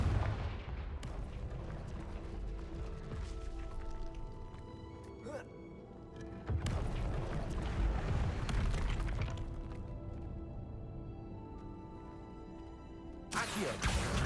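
Confringo explosive spells cast in Hogwarts Legacy, with booming blasts at the start, around six and a half seconds and near the end, each followed by long rumbling tails over dense game combat noise.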